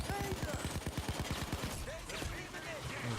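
Gunfire in the video game PayDay 2, a rapid burst of automatic shots in a fast even rhythm that fades into scattered game sounds, with a voice talking over it.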